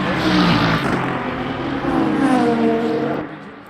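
A Cadillac race car roars past in a Le Mans endurance racing video game, engine loud and close with rising and falling pitch through the pass, fading slightly at the end.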